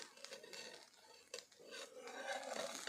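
A fasting dhirde, a barnyard millet crepe, being flipped in a pan: a run of light metallic scrapes and taps of a spatula against the pan, close and clear, with soft sizzling between the strokes.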